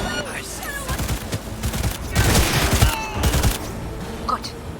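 Dense bursts of rapid gunfire crackle in a Cyberpunk 2077 firefight, loud and overlapping, with voices faintly mixed into the chaos.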